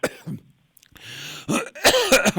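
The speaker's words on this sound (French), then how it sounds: "Ça me fait tousser." A couple of harsh coughs close to the microphone, separated by short pauses, with a faint throat-clearing sound in between.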